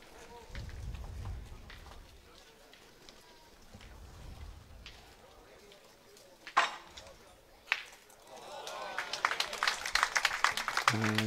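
Spectators applauding at a pétanque match in a national tournament quarter-final at Les Vans: scattered clapping builds toward the end under a commentator's voice, with a few sharp knocks from boules.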